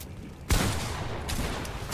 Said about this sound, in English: There's another player shooting us as well